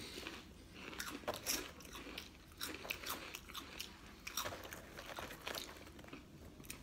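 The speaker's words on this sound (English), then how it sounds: "I know I'm chewing and I'm eating" Crunchy Hot Cheetos and Takis are bitten and chewed up close, a steady run of loud, crisp crunches with brief pauses between bites.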